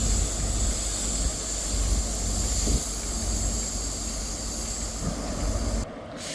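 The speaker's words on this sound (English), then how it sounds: "Departing out now is the" A Scotrail train pulls out of Montrose station, a steady rumbling roar with hiss and faint clanks as it rolls away, fairly loud and continuous before dropping off at the end.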